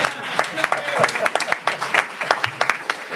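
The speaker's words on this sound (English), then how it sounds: "And a round of applause for our timekeeper." An audience at a state GOP candidate forum gives a round of applause, scattered claps fairly close and moderately loud, with voices talking underneath.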